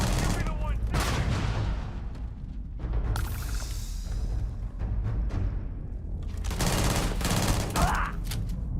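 Video game gunfire in Starfield crackles in dense, overlapping bursts, loud and close, with a sweeping whoosh midway and shouting voices mixed into the fight.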